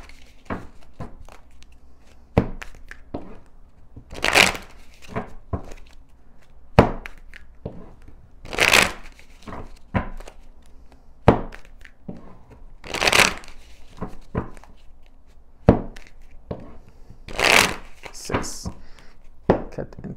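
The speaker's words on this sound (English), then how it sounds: "So, six shuffles." Tarot cards are shuffled by hand in a series of separate bursts, each a brief riffling swish with soft taps and handling noises between them, close and fairly quiet with no talk.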